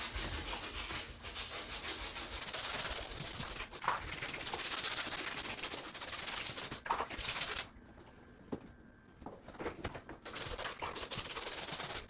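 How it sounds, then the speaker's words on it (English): A natural rubber open-cell yoga mat is scrubbed by hand, close rhythmic rubbing and brushing strokes in quick repeated bursts, pausing briefly before resuming. "round 2 of scrubbing"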